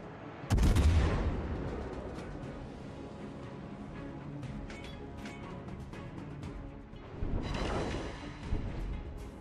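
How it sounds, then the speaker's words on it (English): Heavy naval gunfire from warships in the World of Warships battleship game: a loud broadside boom opens, followed by a rumbling, crackling battle din, then a second burst of salvo fire near the end. "Concentrate fire on the enemy warship."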